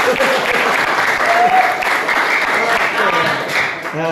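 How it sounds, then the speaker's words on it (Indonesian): Applause from an audience at a school event, dense and steady for several seconds, loud and close, with voices mixed in underneath. "Boleh tepuk tangan dulu,"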